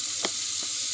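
Butter sizzles in a hot pan before sausages go in, a steady bright hiss with a couple of faint stirring clicks, close and continuous with no talking.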